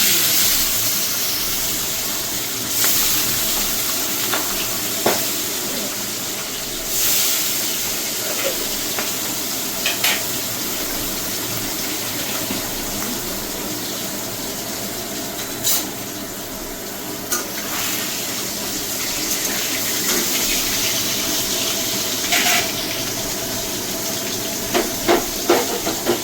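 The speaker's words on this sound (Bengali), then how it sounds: "বন্ধু, আমি মাছটা ভালো করে একটু ভেজে নিই।" Fish frying in hot oil in a home kitchen, a steady hissing sizzle with periodic sharp spits and crackles over about 26 seconds, moderately loud and close.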